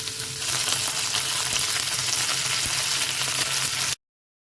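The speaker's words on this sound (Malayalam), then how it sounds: "അതിലേക്ക് ചെറുതായി അരിഞ്ഞ ഉള്ളി ചേർത്ത് മൂത്തുവരുമ്പോൾ ചുവന്ന മുളക് 2 മുറിച്ചത്, കറിവേപ്പില എന്നിവ ചേർത്ത് മൂപ്പിക്കുക." Chopped onion, red chillies and curry leaves frying in hot oil for a Kerala-style long beans stir fry, a loud, steady close-up sizzle that runs unbroken for about four seconds and then cuts off.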